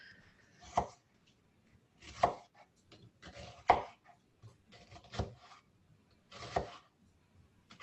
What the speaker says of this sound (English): I really appreciated that learning how to cut an onion